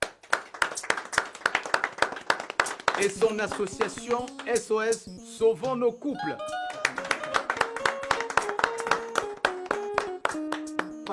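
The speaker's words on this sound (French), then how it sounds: "qu'on applaudisse très fort pour mademoiselle Passy Mbarga" Guests at a gathering clap for Passy Mbarga, a room of sharp, fairly close handclaps that starts, gives way briefly to someone speaking in French, then resumes as scattered claps under continued talk.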